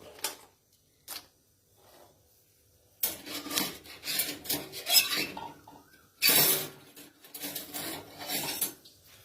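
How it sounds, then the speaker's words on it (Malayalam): Dried ivy gourd and kanthari chillies tipped into hot oil in a cheenachatti, a few faint clinks at first, then rustling, scraping and crackling frying with a louder burst midway. "നമ്മുടെ കോവയ്ക്കായും കാന്താരിമുളകും കൂടെ ഉണങ്ങിയ കൊണ്ടാട്ടം ഒരൽപ്പം ഇതിലോട്ട് ഇട്ട് കൊടുക്കാം"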